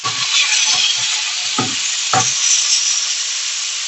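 Shredded cabbage and carrots fry in a hot pan for yakisoba, a loud close sizzle with a few soft stirring clunks and scrapes breaking through the steady hiss.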